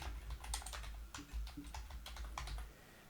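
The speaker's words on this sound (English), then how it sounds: "I'm just going to type in cousin calculator." Quiet, rapid keystrokes on a computer keyboard as a short search phrase is typed, a light irregular patter of clicks close by with no one talking.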